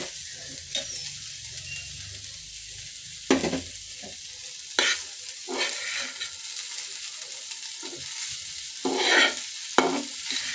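Flat beans and potato bhaji frying in a pan with chillies and onion, a soft continuous sizzle broken by several scraping stirs of a spatula at irregular intervals, close and fairly quiet.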